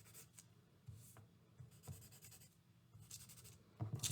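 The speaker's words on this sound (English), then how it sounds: "I'm using the side of the pencil as much as I can" The side of a pencil rubs across tracing paper laid on a desk to transfer a drawing, giving soft, close scratchy strokes in irregular bursts with brief quiet gaps.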